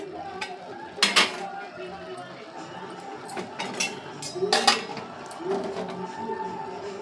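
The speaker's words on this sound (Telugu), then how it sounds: "మూత తీసి చూద్దాం ఫ్రెండ్స్" A metal lid comes off a pot of homemade veg basmati biryani with several sharp clanks and rattles of cookware, while a person speaks in between.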